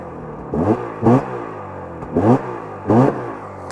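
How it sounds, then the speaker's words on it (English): A 2025 Arctic Cat ZR 600 Catalyst snowmobile idles, its throttle blipped four times in quick rasping bursts that rise and fall over a steady close-up engine drone. "I don't mind starting up for you and flipping the throttle a few times"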